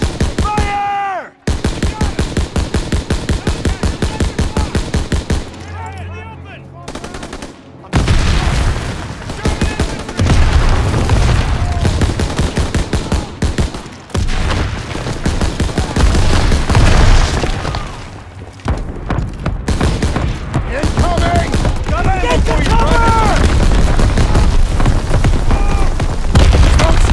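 Dense gunfire and repeated explosions from a World War II shooter game, Call of Duty WW2, with machine-gun bursts and booms rolling almost without pause and loud, shouted voices mixed in.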